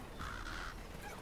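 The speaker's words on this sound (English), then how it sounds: "Just those fucking crows." Crows in The Walking Dead: Michonne video game: a faint, distant caw or two over a constant ambient hiss, no voices.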